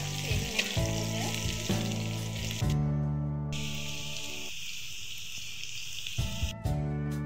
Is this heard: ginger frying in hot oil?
yes